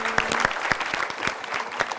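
An audience claps enthusiastically for a contestant named Mbak Yanti on an Indonesian TV comedy game show, a steady burst of applause with sharp individual claps standing out.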